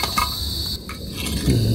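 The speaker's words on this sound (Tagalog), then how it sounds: "Grabe namang ingay ng kuliglig oh." Crickets chirp at night with a steady, high-pitched drone near a motorcycle wheel being cleaned, with a brief clinking sound and a low hum toward the end.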